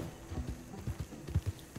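Horse hooves clip-clop at a steady walking pace in the Red Dead Redemption 2 video game, sounding as close, distinct thuds in an even rhythm with no talking.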